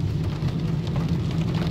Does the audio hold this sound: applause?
no